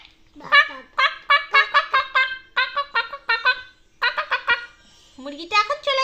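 A human voice imitates a clucking chicken for a toy chicken, giving rapid bursts of repeated cluck-like calls in short groups with brief pauses, close and fairly loud.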